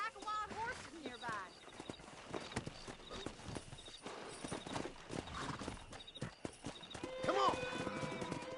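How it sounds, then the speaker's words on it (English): Wild horses in the Red Dead Redemption western video game gallop with rapid clip-clop hoofbeats and let out several whinnies, mixed with game sounds and brief speech. "That ranch hand said there's a pack of wild horses nearby."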